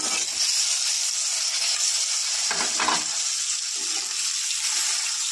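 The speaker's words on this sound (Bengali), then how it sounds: "আমি অলিভ অয়েল তেল নিয়ে নিলাম। ডিমটা ভেজে নেব।" An egg frying in olive oil in a pan: a steady, bright sizzle throughout, with a brief stir or shift of the pan midway.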